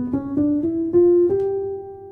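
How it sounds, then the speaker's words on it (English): Someone plays a G half-whole diminished scale on a keyboard, a brisk run of single notes stepping upward in quick succession, the last one left ringing, close and with no voices. "that scale is called the G half-whole diminished scale"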